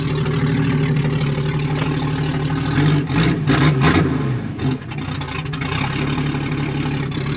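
A pickup truck engine idles with a steady low rumble, briefly surging and stuttering midway before settling back into its idle.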